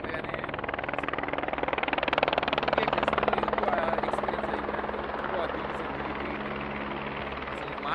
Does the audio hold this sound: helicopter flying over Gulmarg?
yes